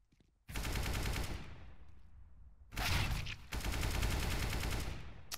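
Video game gunfire in rapid automatic bursts, loud and close, with one long burst, a short pause, then two more sustained bursts separated by a brief gap.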